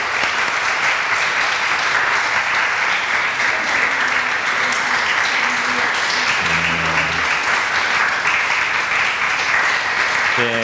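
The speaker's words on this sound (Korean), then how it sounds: "크게 박수로 환영해 주시고 축하해 주시기 바랍니다" A church congregation at a Sunday service applauds loudly and steadily to welcome newly appointed deacons, a dense sustained wash of clapping with brief low voices murmuring underneath.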